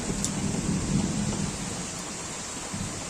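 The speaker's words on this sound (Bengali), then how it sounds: "সাথে বাজ পড়ছে।" Heavy rain pours in a village during an afternoon storm, with a low thunder rumble swelling early and fading, a dense steady hiss throughout, fairly distant and without voices.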